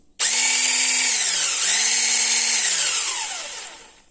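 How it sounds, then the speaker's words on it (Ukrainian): A high-pitched motorized whine from a Gorenje HBX602RLBK hand blender with its whisk attachment starts abruptly and runs steadily for about four seconds, its pitch dipping and recovering twice before fading slightly at the end. "Насадка вінчик набагато гучніша порівняно із насадкою подрібнювачем."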